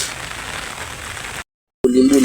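Steady rain falls outdoors on a wet day, an even hiss of drops that cuts out abruptly into silence before a voice starts speaking.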